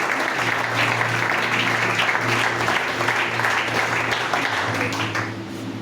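A church audience claps in sustained, dense applause for the whole stretch, loud and close, easing slightly near the end.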